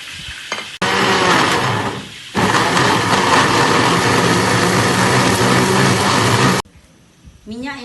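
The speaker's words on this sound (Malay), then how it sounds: "kita blender bahan untuk ditumis. Tomato, bawang putih, bawang merah" Broadband roar of a kitchen blender pureeing tomato, garlic and shallots for sambal ayam, loud and steady for about six seconds after a brief start, then cutting off to quiet with a voice at the end.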